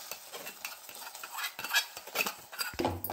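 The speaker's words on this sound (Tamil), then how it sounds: "கேரமலைஸை நல்லா கலக்குங்க." Caramelized sugar stirred into thickening wheat halwa, quick repeated scraping and clinking of a spoon against the pan with a soft sizzle underneath, close and fairly loud.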